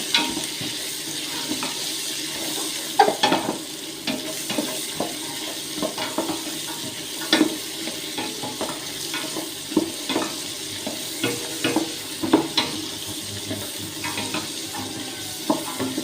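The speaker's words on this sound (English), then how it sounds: "I always like carrots to fry with the meat when I'm cooking the stew." Carrots frying with beef in a pot for a beef and vegetable stew, a continuous close sizzle with periodic stirring clatters and scrapes, no voices.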